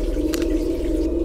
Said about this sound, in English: They have running water underneath the basement.